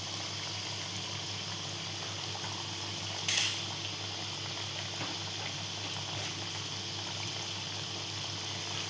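Potato bites deep-frying in a pan of hot oil, a steady dense sizzle and bubbling hiss throughout, close, with one brief clink partway through.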